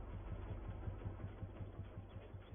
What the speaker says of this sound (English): Get that tractor into position there.